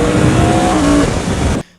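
A Yamaha R1 motorcycle engine revs hard in a loud, close, high-pitched howl that holds steady for under two seconds, then cuts off abruptly.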